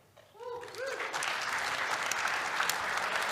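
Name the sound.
audience applause welcoming a conference speaker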